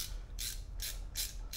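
A ratchet wrench working an oil drain plug loose during a DIY car oil change, giving four short bursts of rapid clicking at a steady pace, near and fairly loud over a low background hum.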